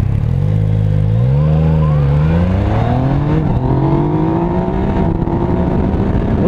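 Yamaha MT-09 SP motorcycle launching hard from a standing start, its loud close engine note rising steadily through the revs and climbing in pitch as it pulls away.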